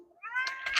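An orange farm cat lets out a single short, close meow that rises and ends with a breathy, slightly strained edge.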